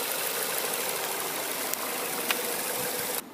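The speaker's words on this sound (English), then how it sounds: "The belts are spinning pretty good." Steady close idle of a 2015 Ford Fusion SE engine with its belts spinning, a smooth continuous whir and hum that cuts off abruptly near the end.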